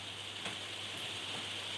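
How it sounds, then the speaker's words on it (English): Rain falling outdoors during a live stream, a steady broadband hiss of drops with faint scattered taps, continuous and even throughout. "the rain wants to join us again."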